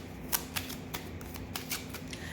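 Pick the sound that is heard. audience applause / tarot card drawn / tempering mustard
tarot card drawn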